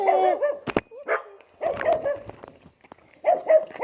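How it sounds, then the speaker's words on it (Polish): Several dogs bark outdoors in short, sharp bursts with yips mixed in. Loud clusters of barking come and go with brief quiet gaps between them. "Przepraszam za głośno, bo są psy"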